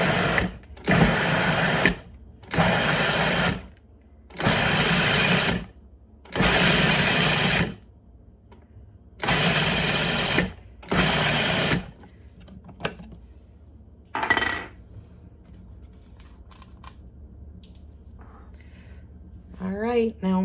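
Basil, pine nuts and other pesto ingredients being pulsed in a blender or food processor: a series of loud, roughly one-to-two-second motor bursts with short gaps, followed by quieter handling noises.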